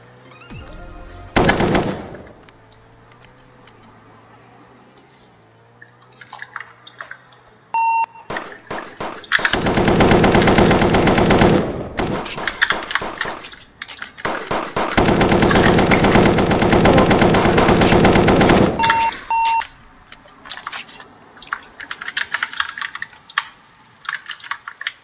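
Sustained bursts of automatic M4 rifle fire in a prison-themed shooter game, loud and dense, with an opening single shot, two long rattling volleys and scattered clicks and beeps between them.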